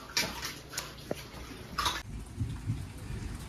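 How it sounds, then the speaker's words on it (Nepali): Rain that has been falling since morning in a flower-filled rural yard, a steady soft patter and hiss with a few louder drips, fairly quiet and unbroken. "बिहानदेखि पानी परेको"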